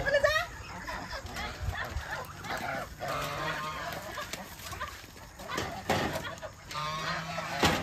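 Domestic ducks and geese at a rural home pond in the evening honk repeatedly in loud, overlapping calls near the listener, while people talk over them.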